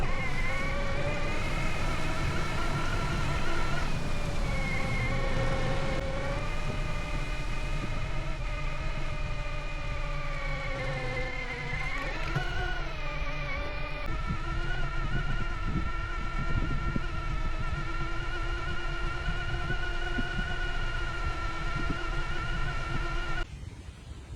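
A DIY mid-drive e-bike motor with a 3D-printed battery whines steadily while climbing a steep mountain road in the Dolomites on throttle alone. Its close, sustained electric drone shifts pitch as the load changes.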